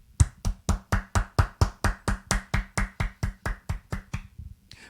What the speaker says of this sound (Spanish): quisiera que demos un aplauso a la palabra de Dios